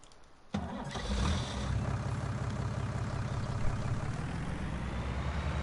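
A heavy military truck engine in Farming Simulator 19 cranks and catches, then settles into a steady, rumbling idle that continues alone.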